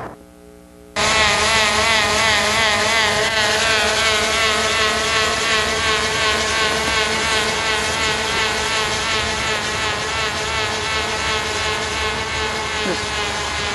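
Small electric motor on a radio-controlled single-wing model aircraft starts suddenly after a quiet moment, then runs as a loud, steady, close whine with a buzzing propeller tone throughout.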